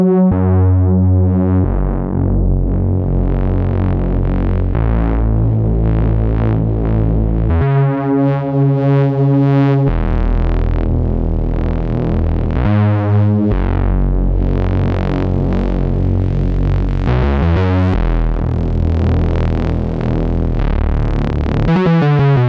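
A Soundpaint Crow synth patch plays layered bass parts with a low-pass filter on the mod wheel, gritty sustained notes changing pitch in loud phrases with no talking.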